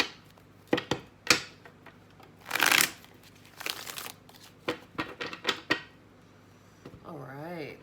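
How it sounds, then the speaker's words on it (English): Tarot cards being shuffled by hand, a series of brisk crisp riffles and soft flicks in short bursts, with one longer rustle mid-way and a brief voice near the end. "Let's do one more shuffle."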